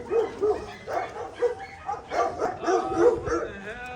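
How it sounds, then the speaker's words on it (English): Several dogs bark and yip repeatedly in close range, excited bursts coming in an irregular rhythm, with some whimpering tones mixed among the barks. "We're just gonna hear the dogs barking."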